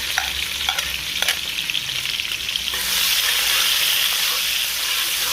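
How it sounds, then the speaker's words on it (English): Sliced white and purple onions hit hot oil in a pot for curry and sizzle loudly at close range. A few stirring scrapes mix in, then the steady frying grows fuller, with no talking. "First to the pot, the white onion and the purple onion."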